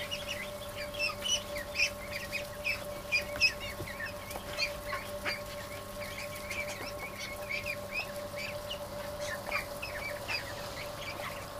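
Young ducks in a warm barn, gathered at feed: a continuous chorus of soft, rapid peeps and chirps at moderate distance, rising and falling in small clusters.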